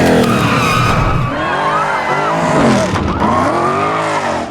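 A car in Need for Speed drifts around corners, tires squealing and skidding in long sweeping wails over a roaring engine, loud and continuous.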